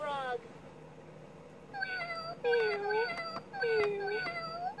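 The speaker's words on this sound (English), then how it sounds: "Cat." A cat meowing in an animal sounds game, a few clear repeated meows close and moderately loud, following a brief descending call at the start, with no speech over them.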